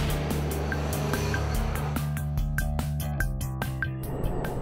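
Mitsubishi Evo 10 on a race circuit, its engine droning close and steady as pitch shifts with throttle, punctuated by rapid clicking and ticking transients throughout.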